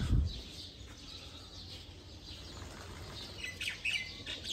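Breeder pigeons kept at home calling, faint chirps and squawks against a soft room hiss, with a brief thump at the start and a few brighter calls near the end.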